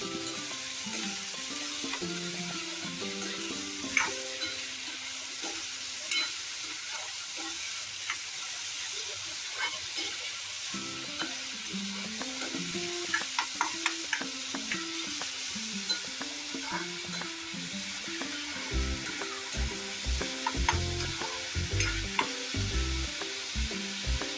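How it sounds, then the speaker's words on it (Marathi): Chopped onion frying in a pan for Marathi-style dried shrimp (suke sode), a steady soft sizzle with occasional stirring scrapes and clinks, heard close with no talk. "कांदा चांगला लाल होऊ दे तोपर्यंत आपण जरा थांबूया"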